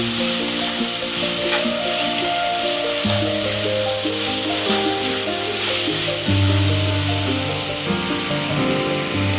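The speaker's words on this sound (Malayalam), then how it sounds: "ഇനി ഇതിലോട്ട് ക്യാബേജ് ചേർത്ത് കൊടുക്കാം. എന്നിട്ട് ഇത് 2 മിനിറ്റ് ഇളക്കി കൊടുക്കാം." Cabbage is stirred and fried in a pan for a chicken omelette, giving a steady close sizzle with scraping stir sounds throughout.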